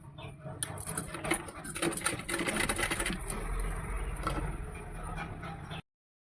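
A sewing machine stitching piping onto blouse fabric runs in a close, steady rattling whir for several seconds before stopping abruptly.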